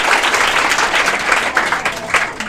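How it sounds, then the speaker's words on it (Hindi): Classroom applause in an English-speaking coaching class, a loud burst of many hands clapping in a steady uneven patter lasting a couple of seconds, with a voice speaking over it. "जोरदार तालियां इसके लिए"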